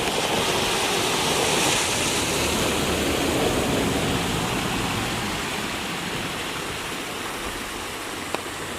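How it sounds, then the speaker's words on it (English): A rain-fed creek in California rushes steadily with a dense, continuous wash of flowing water, loud and close, with no talking. "Oh yeah, that creek is gonna fill up."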